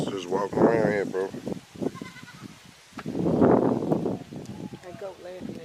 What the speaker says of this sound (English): That goat laughing at you over there.